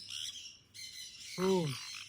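A pet bird gives one short, harsh squawk near the end, fairly close but not loud, over a faint background hiss and some quieter higher-pitched chirping earlier.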